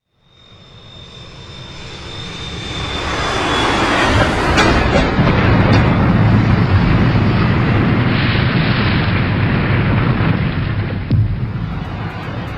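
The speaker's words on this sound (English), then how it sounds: "When the planes hit the towers on the morning of September 11th, 2001" Jet airliners striking the World Trade Center towers on September 11, 2001: a jet engine roar swells over a few seconds into a loud, sustained, rumbling blast, with no voices.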